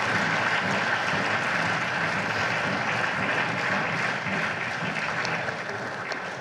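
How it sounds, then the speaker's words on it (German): Dense, steady applause fills a state parliament chamber during a plenary debate, continuing evenly throughout and tapering slightly at the end. "auch wenn Sie jetzt viel Applaus bekommen haben"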